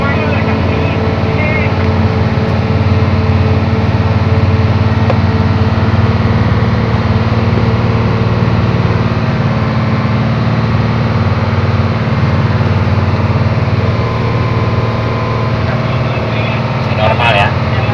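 Hino 500 dump truck engine labouring up a steep mountain hill in gear C, a loud, continuous low diesel drone held at steady revs throughout.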